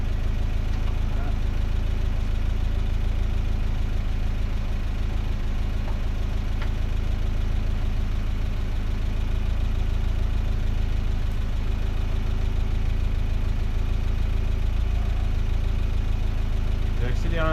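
A 1985 Mazda 626 coupé engine idles steadily with a deep, continuous rumble and a faint ticking knock throughout, heard close up, loud and unchanging, with a voice briefly audible beneath it.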